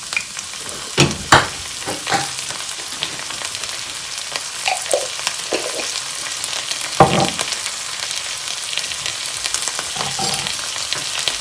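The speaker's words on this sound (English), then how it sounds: "we're just going to fry the garlic, so cook the garlic" Garlic fries in a pan for a chickpea curry, a steady close sizzle with occasional stirring scrapes and brief clatters, no talking over it.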